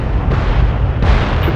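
A cluster bomb detonating in a video game, a low rumbling boom that swells twice in quick succession over a sustained deep roar, loud and close with no talking.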